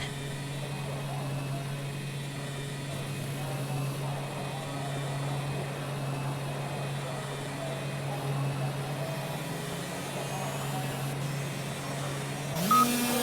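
A go-kart engine drones steadily in the Project CARS racing game at Oulton Park, a continuous, even mid-pitched hum with no talk over it.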